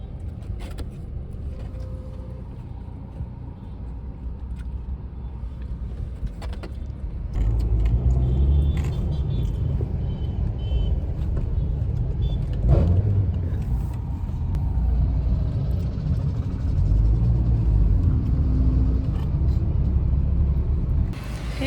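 Road traffic in Ranchi, India: a steady low rumble of cars and motor vehicles passing nearby, with the engine drone growing louder partway through and continuing without talk.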